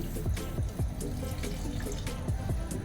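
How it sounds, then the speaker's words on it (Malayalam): Close, steady gurgling pour of a cup of water into a soya chunks curry pan with bubbly splashes, running continuously and fairly quietly. "അതിലോട്ട് നമുക്ക് 1 കപ്പ് വെള്ളം ആദ്യം ഒഴിച്ച് കൊടുക്കാം"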